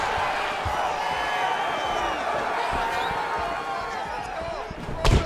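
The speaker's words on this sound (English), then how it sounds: "You hear this crowd just eating out of his hand, oohing" A large UFC arena crowd roars steadily during a fight, rising and falling with excited oohs and cheers, and a sharp thud of a landed blow near the end.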